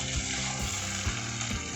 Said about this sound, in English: Fry for at least 1 minute of time.